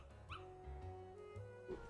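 A dog in a Kingdom Hearts video game gives short yips and whimpering barks over looping background music, a few quick calls spread through the moment.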